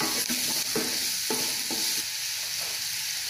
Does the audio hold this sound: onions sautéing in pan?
yes